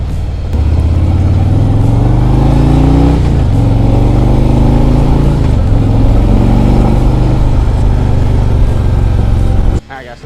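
A 2021 Road Glide Limited motorcycle with a Milwaukee 8 engine rides along, its loud, deep rumble holding close and steady with a few dips and rises in revs before cutting off near the end.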